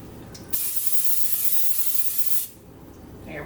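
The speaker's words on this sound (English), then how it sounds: "or simply just spray on some Pam" A single spray of cooking spray into a pan hisses for about two seconds, close and fairly loud, cutting off abruptly into quiet room sound.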